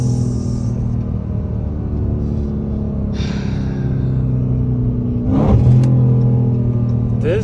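Dodge Charger SRT Hellcat with supercharger idling and cruising with a low rumble, then a sharp revving blip as it downshifts, heard from inside the car.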